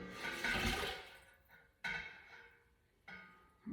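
A lye and water solution is poured into oils for soapmaking, a rushing liquid gush that fades, then is followed by a few shorter pouring splashes, close and moderately loud.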